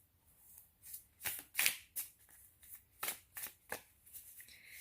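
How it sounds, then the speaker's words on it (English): Crisp riffling tarot card shuffles, several quick bursts in a row with short pauses between, close and fairly quiet, no talking. "And you can shuffle until you get a pop,"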